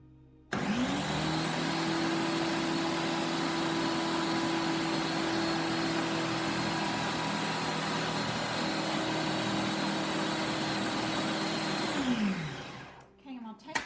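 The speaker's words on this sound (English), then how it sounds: "Okay, we're going to put the lid on. Give this a whirl." Countertop blender whirring through cooling foot cream ingredients, one loud continuous run of about twelve seconds with a steady motor whine that spins down at the end, close to the microphone.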